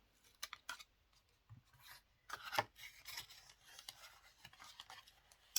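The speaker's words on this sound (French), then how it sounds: "Je me débrouille de décoller mes scotch d'un côté." Scotch tape is peeled off paper with soft, close, intermittent rasping and crinkling, in short uneven strokes and faint sticky pulls in a quiet room.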